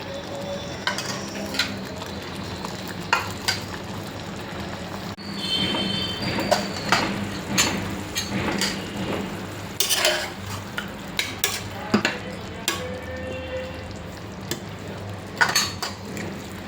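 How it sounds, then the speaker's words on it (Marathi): Chicken sizzles steadily in a pan on a high flame while a utensil scrapes and clinks against metal repeatedly, close and fairly loud. "मोठ्या गॅसवरती छान याला असं शिजवून घ्यायचं आहे"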